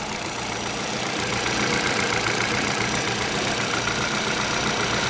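A boat engine leaking fuel and oil idles up to running temperature, producing a constant, dense, rough drone with faint knocking, loud and unbroken for the whole stretch.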